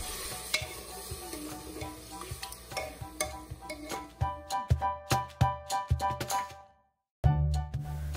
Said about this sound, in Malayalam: ഇനി ഇതിലേക്ക് 1 glass ചൂടുവെള്ളം ഒഴിച്ച് കൊടുക്കുകയാണ്. എന്നിട്ട് ഒന്ന് ഇളക്കി കൊടുത്തതിന് ശേഷം സിമ്മിലാക്കി വെക്കുക.